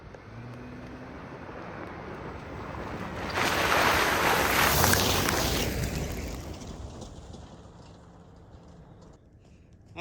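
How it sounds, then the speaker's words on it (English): A vehicle rips through a mud hole and throws up a loud, broad splash that surges mid-way and then fades back to a low engine rumble, ending with a short knock. "We're going to rip it right through this mud hole."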